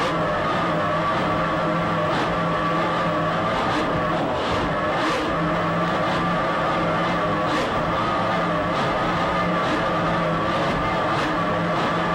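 Racing powerboat at the 1995 Palm Beach County Offshore Grand Prix, powered by three 2.5 EFI outboard engines, roars continuously at high revs, loud and steady with slight pitch shifts.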